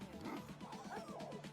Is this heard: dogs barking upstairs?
yes